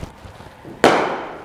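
One crisp crack of a cricket bat striking the ball during a spin bowling coaching session, loud and close after a brief quiet stretch of background noise.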